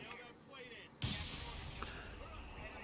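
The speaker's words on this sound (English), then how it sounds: "Let's barrage that." Artillery barrage in Company of Heroes 3: one sudden, heavy blast lands at about the one-second mark and rumbles on for a while, with a quieter second impact shortly after and faint game sounds beneath.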